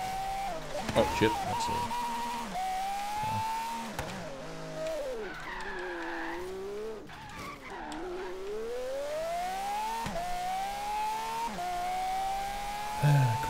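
A V12 car engine in the racing game Forza Horizon 3 revs steadily, its pitch climbing and falling through several gear changes, with tire squeal near the start and someone talking over it.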